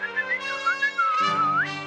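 A melodic whistle, rising and falling in a wavering tune, loud and close, with a cartoon soundtrack shifting underneath.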